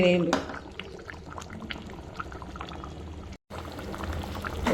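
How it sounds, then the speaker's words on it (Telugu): Fish curry bubbling steadily in a pot, a continuous close simmer of liquid running under a person talking, with a brief dropout partway through. "చూడండి, ఇలా బాయిల్ అవుతుందా అండి ఫిష్ కర్రీ"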